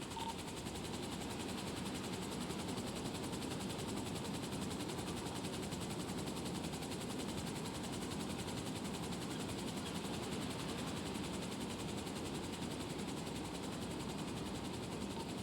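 A helicopter hovers and drifts sideways in GTA, a continuous, even rotor and engine roar that holds at the same loudness throughout with no change in pitch.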